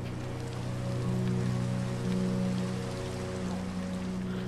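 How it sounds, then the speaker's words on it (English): Steady rain falling in the Minecraft video game, a continuous soft hiss of drops with a low constant hum underneath, heard alone without talk throughout. "I think this is the first time it rained for me in Minecraft."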